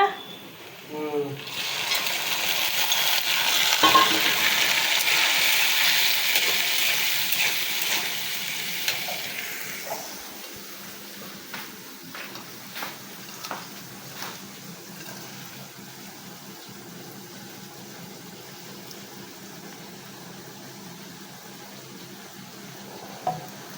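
Burnt onions frying in a pan in a Bangladeshi village kitchen as dal is added: a loud, close sizzling hiss for several seconds that settles into a quieter simmer with occasional spoon knocks and stirring clicks.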